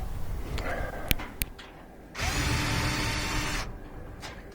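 A power drill spins out a bolt on a Whirlpool laundry center washer, a short whirring burst of about a second and a half, preceded by a couple of sharp clicks and light handling noise at close range.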